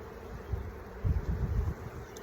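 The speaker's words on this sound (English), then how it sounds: "I just had to put those bees back in there, sorry." Honeybees buzz around hive frames during a spring split, a low, steady droning hum that swells and fades in close pulses, with no talking.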